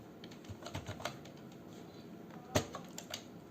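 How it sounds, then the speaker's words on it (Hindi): Keys pressed on a computer keyboard, including the Tab key, while editing a table in Microsoft Word; soft scattered clicks with one sharper, louder keystroke, close and quiet with no talking. "नेक्स्ट सेल पे आना है, फिर से आपको टैब करना है।"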